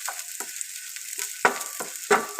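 Shallots, garlic and green chillies sauté in coconut oil, with mustard seeds already popped, as a pearl spot fish mappas is being made. A soft sizzle runs throughout, broken by several sharp stirring scrapes.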